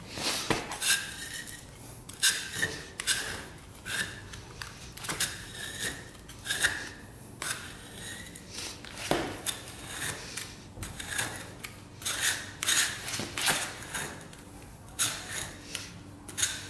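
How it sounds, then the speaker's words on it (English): A putty knife scrapes old glue off a workshop floor in a long run of repeated rasping strokes, each a short burst, irregularly spaced and close, with quieter gaps between them and no talking. "All the glue is coming off. Just using a putty knife."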